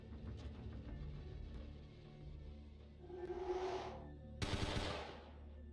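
Gunfire in Vampire The Masquerade Bloodlines sounds as a couple of muffled bursts and a sharper volley over a low, dark ambient rumble, with no talking.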